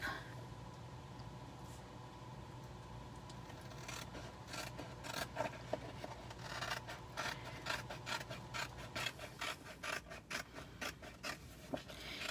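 Scissors cutting apart silkscreen stencil transfer sheets along their dividing lines, a steady run of close, dry rasping snips and rubbing paper sounds that grow busier and more rhythmic toward the end, with no talking.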